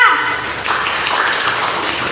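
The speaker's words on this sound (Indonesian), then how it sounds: "Tepuk tangan untuk kelompok 2." Students in a classroom give a group a round of clapping, a busy patter of many hands at moderate volume with a few light thumps and children's voices mixed in.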